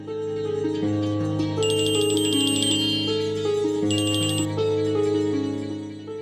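A phone ringtone plays steadily as a repeating electronic melody with bright bell-like chimes, loud and close, without any talking.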